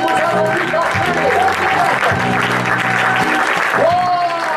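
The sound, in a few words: congregation applauding Jesus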